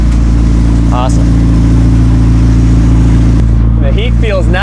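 A McLaren engine idles steadily and loud right after installation, on a cold day outdoors, with a constant low hum throughout while people talk over it.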